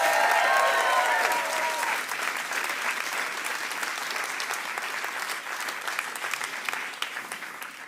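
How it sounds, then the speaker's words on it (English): An audience at a writers' awards ceremony claps in a dense, even round of applause that starts loud and slowly tapers off, with no speech over it. "give them a massive round of applause"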